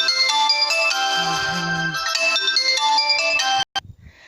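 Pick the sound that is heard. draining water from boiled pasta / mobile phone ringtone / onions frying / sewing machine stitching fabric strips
mobile phone ringtone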